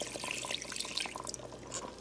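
Chicken stock pours quietly into a pan of pork chops cooking on high heat, giving a faint continuous trickle and splash with light sizzle beneath, no voices.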